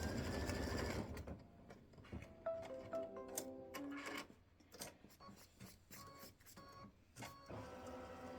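An embroidery machine stitches an appliqué design for a Valentine bear paper towel holder, giving loud rapid mechanical whirring at the start, then intermittent stitching bursts and clicks of varying loudness with no speech.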